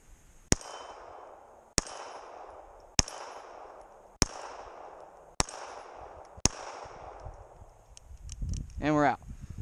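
A Bersa Thunder 380 pistol fires Hornady Critical Defense rounds outdoors, six sharp, loud reports spaced about a second apart, each with a ringing tail. A voice speaks briefly after the last shot.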